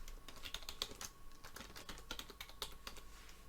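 Fast bursts of typing on a computer keyboard, quiet, close clicks of individual keystrokes in an irregular rhythm with no voices.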